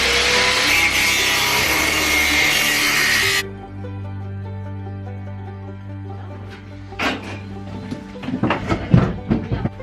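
Power saw cutting through the welded-on metal structure of a vintage camper van, a loud sustained grinding roar for about three seconds that cuts off, followed by quieter clanks and scraping knocks.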